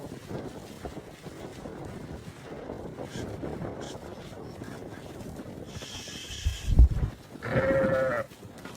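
Sheep bleating at a livestock sale, with one loud bleat near the end over wind buffeting the microphone and a low background rumble.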